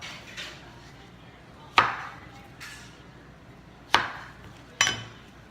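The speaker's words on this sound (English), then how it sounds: "Cut the papaya." A knife cuts papaya against a board for a soup, landing a few isolated sharp knocks, each followed by a short decaying ring, with quiet pauses in between.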